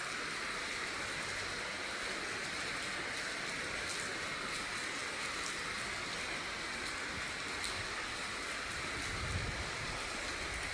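Steady rain falls outdoors while someone walks through it, a dense continuous hiss of drops on surfaces with no pauses and no speech.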